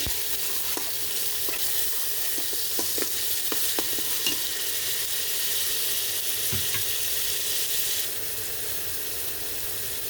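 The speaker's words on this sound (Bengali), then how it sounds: "এখন মশলাটাকে ভালোভাবে আবারও কষিয়ে নিচ্ছি।" Salted spice paste for chicken and bottle gourd curry sizzles steadily in a hot pan while a utensil scrapes and stirs it in short, repeated strokes.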